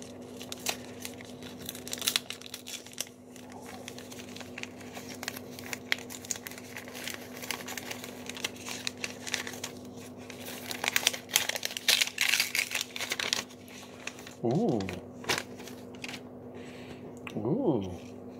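Gift wrapped in Star Wars wrapping paper being torn open, with scattered crinkling and ripping bursts that grow sharper toward the end over a steady background hum; a voice speaks briefly.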